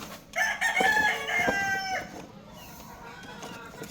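A rooster of the Golden Boy or Boston Black breed crows once, loud and close, followed by soft clucking from nearby chickens at an egg farm.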